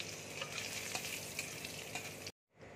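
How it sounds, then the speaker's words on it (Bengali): Cardamom, cinnamon, cloves and bay leaf crackle and sizzle in hot oil left from frying paneer, a continuous close fizz with small pops. It cuts off briefly near the end and then resumes. "পনির ভাজার তেলেই আমি এলাচ, দারচিনি, লবঙ্গ, তেজপাতা"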